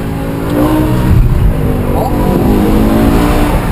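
A BMW M6 with a V10 engine accelerates hard on a track, its loud engine roar rising steadily with harmonic pitch sweeps, close and continuous under people excitedly talking.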